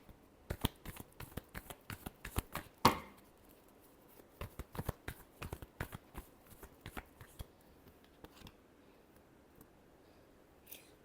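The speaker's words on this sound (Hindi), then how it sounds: "Last shuffle." Tarot cards are shuffled by hand in quick, crisp bursts of riffling and snapping, loud and close, with one sharp slap, then a few quieter shuffles fading toward the end.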